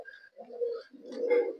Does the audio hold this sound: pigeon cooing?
yes